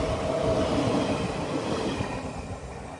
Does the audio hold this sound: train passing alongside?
yes